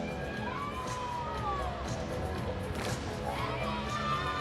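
Hometown crowd at an LSU gymnastics meet against Missouri, a steady roar of cheering and shouting that fills the whole stretch, with scattered whistles rising above it.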